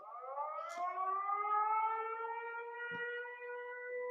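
A civil defense alarm siren wails steadily in the distance, its rising tone holding at a loud, sustained pitch, with a brief faint knock partway through and no talk.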